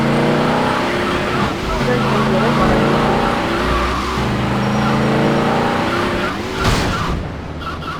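Cars racing in the video game GTA Liberty City Stories: loud, continuous engine roar with shifting revs, tyre squeals and skidding, ending in a sharp screech.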